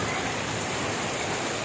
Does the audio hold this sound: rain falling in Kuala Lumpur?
yes